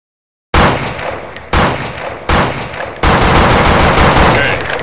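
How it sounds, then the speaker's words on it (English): Loud, close gunfire from the video game Blood and Bacon starts after a moment of silence and continues as rapid machine-gun bursts with brief breaks between volleys. "Hey, stop shooting your gun at me."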